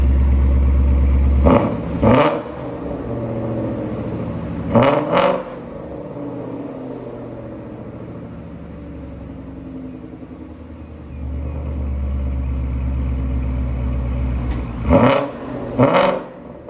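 A 2015 Ford Mustang GT V8 with headers and Corsa Xtreme exhaust idles with a low rumble, then blips sharply in short revving bursts, two quick revs each time, repeated three times with quieter gaps between.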